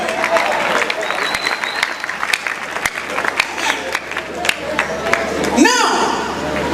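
An audience at a Nigerian comedy show claps steadily with scattered sharp claps, a moderate crowd applause that runs throughout, while a voice speaks over it.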